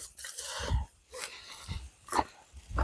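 A dog barks outdoors on a windy day in rural Thailand, giving several short, fairly close barks with low growling between them.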